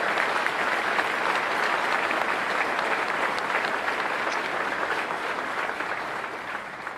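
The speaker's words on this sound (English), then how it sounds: "Let's give them a round of applause" A hall audience at Milwaukee's 2017 State of the City Address applauds service members. Steady, dense clapping runs the whole time at an even level and fades slightly near the end.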